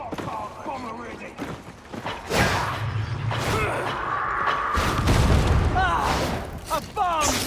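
A bomb goes off during a Darktide mission, a deep boom with swooshing debris and gunfire-like bursts mixed with shouting game voices and combat clatter.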